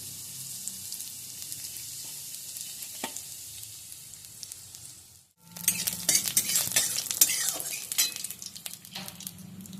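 Whole cumin, a dried chilli and garlic hitting hot oil in a pan: a quieter sizzle first, a brief drop, then a sharp, louder crackling burst with spatters and stirring clatter.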